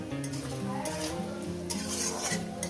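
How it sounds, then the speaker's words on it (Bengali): Onions and tomatoes fry in a pan for a spicy katla fish curry while a spoon stirs and scrapes steadily, with soft sizzling and light metal clinks close by, continuous and fairly quiet with no voices. "এই টমেটোটাকে দিয়ে দিলাম আরও দু মিনিট আমি ভেজে নিলাম"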